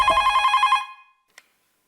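A telephone rings in a short repeating trill, close and clear, then stops, followed by a faint click and silence.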